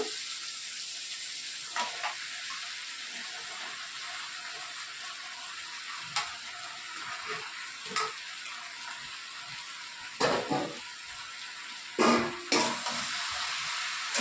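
Bottle gourd pieces stirred with spices in a hot pan for a rohu fish-head lau ghonto: a steady sizzle with a scrape and clink of the spatula against the pan every few seconds.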